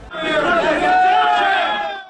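Doctors and medical staff chanting slogans in protest inside a hospital conference room, a loud chorus of many voices shouting in unison for about two seconds.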